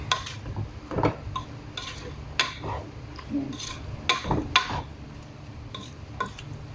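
A spoon scraping and clinking against a pot while radish leaves with sardines are stirred in a little broth, a series of irregular close knocks and scrapes over quiet background hiss.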